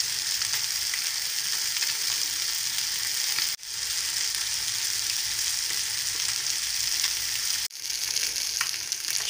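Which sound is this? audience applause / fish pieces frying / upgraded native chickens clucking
fish pieces frying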